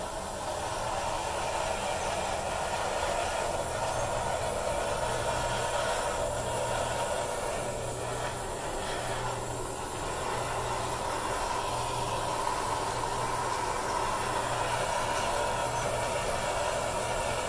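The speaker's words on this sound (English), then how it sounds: "Now we're going to torch it up a little bit, just to see if we can't get some cool cells." A torch blows a steady, loud hiss over an acrylic Dutch pour paint surface, continuing evenly without pause for the whole stretch.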